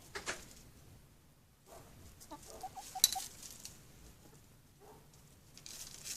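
A pet chicken clucks softly in a few faint, scattered bursts over quiet background noise, close by.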